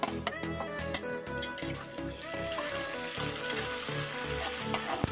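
Two onions frying in a pan, a bright continuous sizzle with rhythmic scraping and clatter as they are stirred, close and alone, with a brief watery splash near the start.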